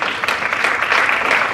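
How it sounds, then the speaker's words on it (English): A workshop audience gives a short round of applause, a brief burst of many hands clapping in a room. "So I'm gonna give him a round of applause."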